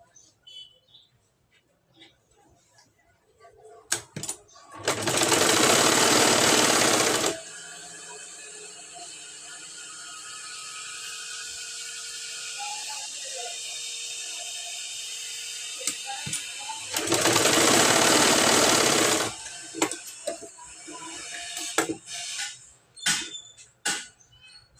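A sewing machine stitches across tuck points on a plain blouse in two separate whirring runs of two to three seconds each, loud and close, with a person talking in the quieter stretches between.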